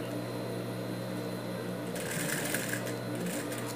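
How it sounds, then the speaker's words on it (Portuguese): Sewing machine with a standard presser foot stitching faux leather for a dog shoe, a steady close mechanical whirring hum that grows brighter and louder with rattling stitch clicks partway through. "Porque eu não estou com o pezinho apropriado para costurar o courino, que é o pezinho emborrachado. Estou usando o pezinho da máquina normal."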